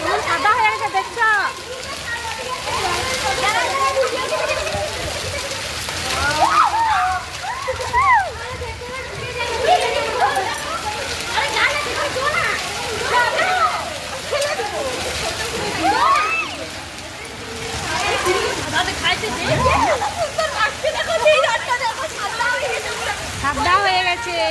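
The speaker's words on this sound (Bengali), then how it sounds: "বৃষ্টি পড়ছে, বৃষ্টি।" Heavy hail and rain fall outside in a dense, continuous splattering wash, with voices talking over it throughout.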